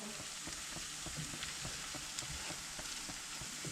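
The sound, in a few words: stirring food frying in a pan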